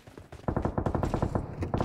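Rapid automatic gunfire in the video game PUBG, a fast, even burst of roughly a dozen shots that rattles for over a second after a brief quieter lead-in.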